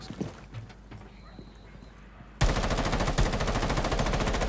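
A gun in Rainbow Six Siege opens up in a sudden loud burst of rapid automatic fire, a fast, even stream of shots after a quieter stretch of faint clicks and movement.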